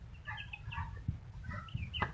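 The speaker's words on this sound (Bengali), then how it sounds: "দেখেন আমাদের মুরগি" Chickens on a village farm cluck in short, close, throaty bursts, a few scattered calls over about two seconds against quiet rural background noise.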